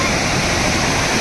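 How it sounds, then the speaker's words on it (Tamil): A river running high and fast, too full for bathing, gives off a dense, continuous rushing roar close by, steady throughout the short moment. "தண்ணி பாருங்க ஃபுல்லாக போயிட்டு இருக்குது"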